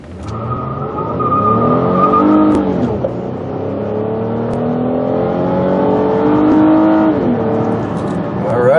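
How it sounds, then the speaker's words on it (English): A 2007 Lincoln MKZ with a 3.5L V6 and front-wheel drive accelerating hard from a standstill, engine note rising through gear changes with brief tire slip, loud and close inside the cabin. "Looks like we got a little bit of slippage with the tires"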